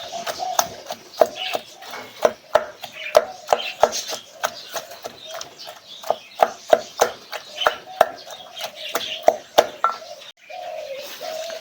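Steady rhythmic pounding of straw mushrooms and roasted tomatoes with chilies for a Thai jaew dip, sharp knocks of a pestle in a mortar repeating close and loud, with a soft voice speaking between strikes.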